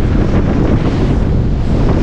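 Strong northeast monsoon wind at Casapsapan Eco Park beach in Casiguran roars steadily and loudly across the microphone, with surf mixed into the gusty rumble. No voices are heard.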